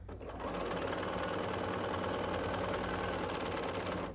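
A sewing machine stitches binding diagonally onto a quilt, running steadily and evenly at a fast rhythmic clip throughout, fairly quiet and close with no talking.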